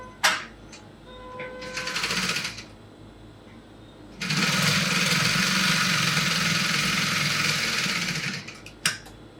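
A sewing machine stitching cap fabric runs in two bursts, a short whirring run followed by a pause with faint clicks, then a longer, louder steady buzz of stitching that stops abruptly.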